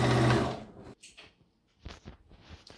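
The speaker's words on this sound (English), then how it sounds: "So I'm going to sew the remaining one down now." A sewing machine stitches down a pocket on a dashiki top in a short, loud whirring burst, followed by quieter clicks and handling knocks.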